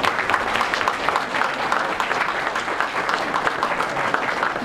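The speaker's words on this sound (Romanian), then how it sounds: "pentru asta vă rog să aplaudați" Steady applause from a crowd at the Miss Cașin 2016 beauty pageant in Cașin, Romania, dense clapping that holds at an even, moderately loud level throughout with no pauses.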